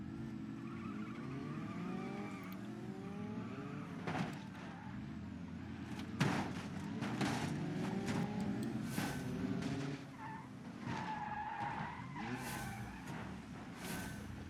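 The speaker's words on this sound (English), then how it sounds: "Oh, I'm skidding." Car tires in the BeamNG.drive racing game squeal and skid repeatedly with bends in pitch, over a running engine and bursts of crunching impacts, loud and busy with no talk.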